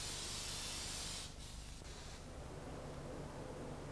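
Underbody vinyl protective coating being sprayed onto a car in a 1980s body repair shop, a continuous loud hiss that briefly drops and then resumes steadily.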